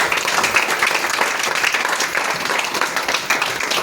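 An audience at a Vestige store meeting breaks into loud, sustained applause, dense clapping filling the room evenly throughout.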